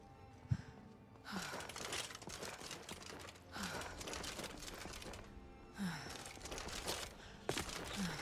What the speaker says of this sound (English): I feel like my character is like stuck in like a heavy breathing loop.